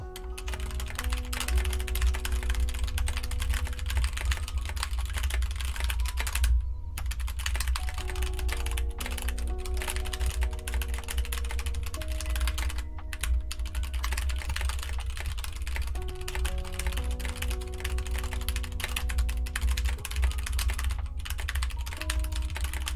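Rapid, continuous computer-keyboard typing in a typing race, a dense unbroken patter of keystrokes with only a few brief pauses, playing over background music.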